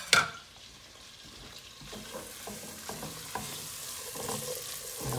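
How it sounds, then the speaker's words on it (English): Onions sizzle steadily in a pot for potato soup, a soft continuous frying hiss punctuated by the scrape and clatter of stirring, with a sharp knock at the start. "Get the onions in sauteing."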